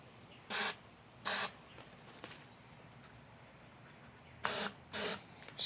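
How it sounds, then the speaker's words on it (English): Cooking spray is squirted from an aerosol can in four short, sharp hissing bursts, two close together early and two more a few seconds later, on a quiet background. "So one of the tips that I use is cooking spray."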